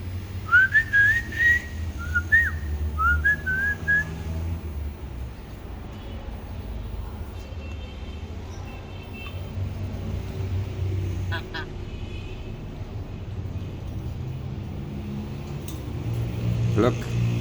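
A pet parrot whistles a few rising, chirpy notes near the start, followed by a longer stretch of indistinct calls and soft noise indoors, with speech-like murmuring in the background.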